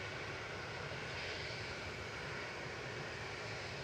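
A Ryanair Boeing 737 MAX 8 jet at Manchester Airport gives a steady, faint broadband engine roar that holds evenly throughout, with no voices.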